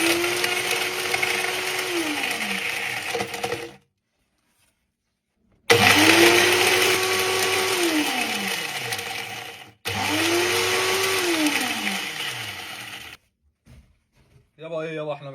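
A blender crushing glass bottles runs in three loud bursts separated by short silences, its motor whining high then sagging in pitch as it grinds through the glass with a gritty rattle, ending with a brief noisy scrape.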